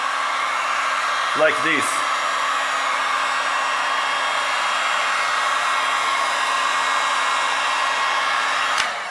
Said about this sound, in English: So you need to heat it up with the gun